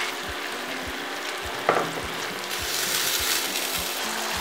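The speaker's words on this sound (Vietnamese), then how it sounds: "các bạn sẽ xào khoai tây cà rốt với mức lửa trung bình trong khoảng thời gian là 4 đến 5 phút" Potatoes and carrots stir-fry in a pan over medium heat with shallots, garlic and ketchup, giving steady loud sizzling with rhythmic scraping strokes of a utensil and one sharper clack.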